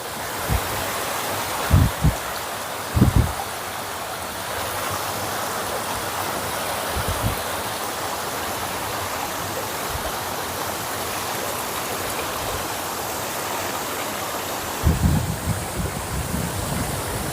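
Flowing water of the Manjira River rushes in a steady, continuous wash, with a few soft low thumps scattered through.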